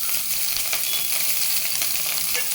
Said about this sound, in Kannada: ಸ್ಟವನ್ನು ಆಫ್ ಮಾಡಿಕೊಂಡು ನಾನೀಗ ಸ್ವಲ್ಪ ಅನ್ನವನ್ನು ಹಾಕ್ಕೊಳ್ತಾ ಇದ್ದೀನಿ.